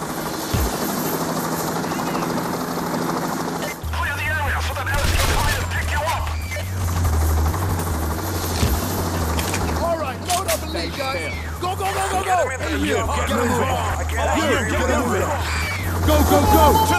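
A helicopter thrums steadily in the video game Payday The Heist while bursts of gunfire crackle around it, loud and dense, with shouted voices mixed in.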